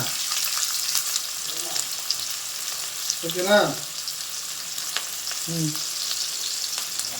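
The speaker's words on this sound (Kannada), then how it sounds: "ಈಗ ನೋಡಿ ಈರುಳ್ಳಿ ಹಾಕ್ತಾ ಇದ್ದೀನಿ. ಸೌಂಡ್ ಬರಬೇಕು." Onions dropped into a hot pan for a chicken gravy sizzle and fry steadily and up close, with a few brief voice sounds over the crackle.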